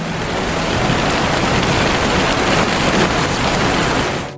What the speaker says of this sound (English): The rain outside had intensified.